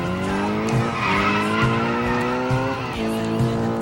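A car in the video game Test Drive: Eve of Destruction spins and skids with steady, sustained tire squeal over a droning engine, loud and close, with no talking.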